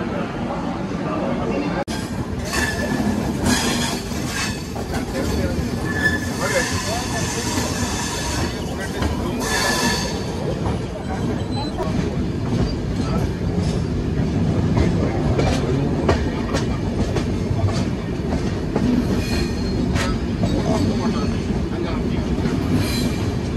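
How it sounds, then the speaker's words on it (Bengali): The 12842 Coromandel Express pulls out of Vijayawada Junction, a steady rolling rumble with rhythmic clickety-clack of wheels and occasional squeals, heard from inside the carriage as passengers' voices murmur over it. "বিজয়ওয়াড়া থেকে ট্রেন ছেড়ে দিল"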